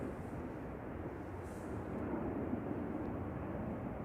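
Boeing 787 departing Manchester Airport, a steady, fairly distant broadband jet roar that swells slightly midway and holds without interruption.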